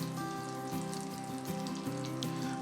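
A Hakka foo young egg mixture sits cooking slowly in a pan, giving a soft, steady frying crackle under a sustained tonal hum.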